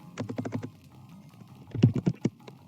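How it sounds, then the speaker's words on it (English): Computer keyboard keys clicking during a live-streamed game session, a quick burst of several taps followed by a louder, closer cluster of clicks with no talking. "you can probably hear this with the clicking"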